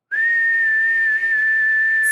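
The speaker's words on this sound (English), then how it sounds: "That whistle had a lot of heart this time" One long, steady whistle from a person, held on a single pitch for about two seconds, close and clear.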